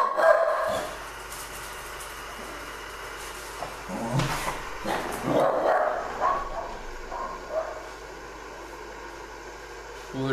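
A pet dog barks in a room, several scattered yips and barks at moderate distance, fairly faint against a constant background hiss.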